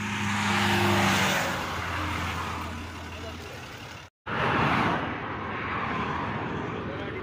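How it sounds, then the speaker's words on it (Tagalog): Small vehicles speed past on a dark, cold, foggy road, loud and broadband with engine rumble rising and fading, a brief dropout midway, and a voice speaking over them. "Mga sakyan na mga maliliit, ang bilis."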